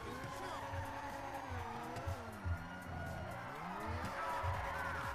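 A car drives and its tires skid and squeal in GTA V, steady engine drone with wavering squeals over a few seconds at moderate level.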